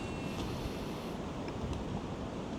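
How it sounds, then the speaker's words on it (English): Strong wind blasts across the microphone in a constant roaring rush, mixed with the wash of surf nearby, at the Bridgewater canal breach. "It is too windy"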